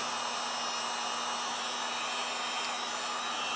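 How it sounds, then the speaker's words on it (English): A heat gun runs steadily with a constant airy whoosh and a faint electric hum underneath, close and unchanging throughout, used to warm a 12-volt 100 Ah LiFePO4 battery during a load test. "Now I'm turning on the heat gun and pressing start."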